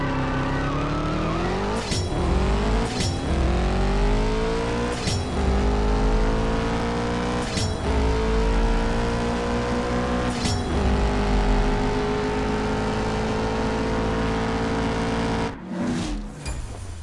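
A Ferrari Portofino engine in the racing game CSR Racing 2 revs up through a series of gear shifts, a loud, sustained engine drone that rises and drops at each change, ending in a brief cut.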